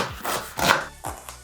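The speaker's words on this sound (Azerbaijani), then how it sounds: "Soğanlarımızı kuklu şəkildə doğrayırıq." A knife chops onions on a cutting board in five or six quick, close, crisp strokes. Each cut lands as a short thud in an uneven rhythm.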